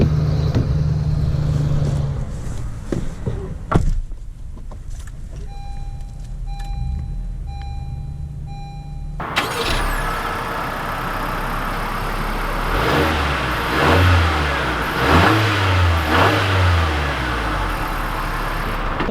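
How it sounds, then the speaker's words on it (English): A 2020 Honda CR-V Touring pulls away and accelerates while driving, its engine rising as a steady mid-pitched drone with road and cabin noise, after a quieter stretch with faint electronic chimes. "let's take this CR-V out to see how it drives"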